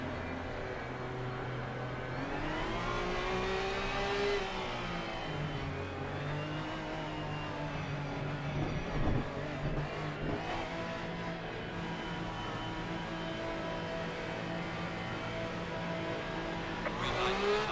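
A Ferrari GT race car in Assetto Corsa Competizione revs and accelerates at a race start, its engine note rising and falling through gear changes and sustained as a steady, fairly quiet mechanical drone.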